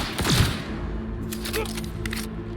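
Gunfire in the video game Cyberpunk, heard as a brief cluster of sharp shots near the start followed by lighter rattling reports, with a continuous background drone throughout.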